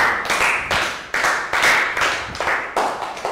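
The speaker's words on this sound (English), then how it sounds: "Round of applause for Let Go" A group of Year 3 children in a health education lesson give a round of applause, clapping in repeated loud bursts with short gaps between them, close and lively, with no talking.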